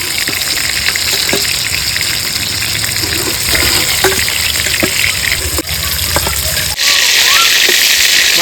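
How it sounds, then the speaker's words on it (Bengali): Stuffed pointed gourd (potol) frying in white oil, a strong, close, continuous sizzle with bubbling and a few light knocks and scrapes, the tone shifting near the end. "এইবার ভাজা হয়ে গেছে, তুলে নেব।"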